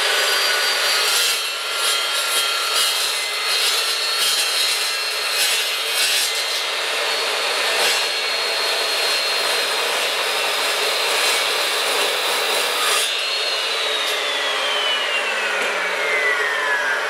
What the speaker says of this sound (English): Now, this thing cuts super nice. I'm not forcing it, I'm letting the saw do the work.